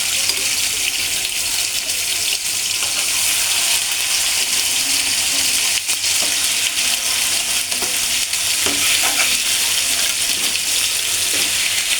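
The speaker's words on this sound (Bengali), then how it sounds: "আমি এখন এই ম্যারিনেট করা মাছটা এখন আমি ভেজে নেব।" Marinated catla fish coated in ginger, cumin, coriander and garlic paste frying in a pan, a constant close hiss and crackle of oil running unbroken throughout.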